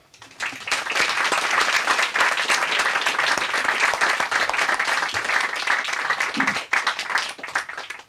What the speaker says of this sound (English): please join me in welcoming Bob Thompson and Glenn Frankel.